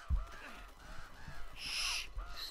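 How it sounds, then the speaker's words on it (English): Crows caw in the video game Uncharted: Drake's Fortune, several harsh calls spread across a short stretch of in-game ambience with low thumps underneath. "Stupid crows."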